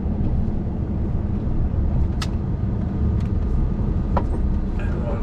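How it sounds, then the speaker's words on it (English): A car driving down a road, heard from inside as a steady, loud low rumble of engine and tyre noise that holds constant throughout, with a few faint clicks on top. "I do prefer driving down this way anyway"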